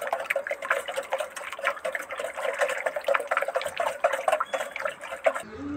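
Liquid cow dung fertilizer sloshes and swirls in a container as it is stirred, with a continuous wet churning close by; a voice speaks over it.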